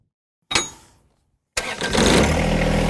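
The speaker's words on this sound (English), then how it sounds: "I did have to put the tractor back in neutral to start it" A John Deere 1025R compact tractor engine: a short cranking burst that dies away, a second of silence, then a second crank catches and the engine roars into a loud steady idle.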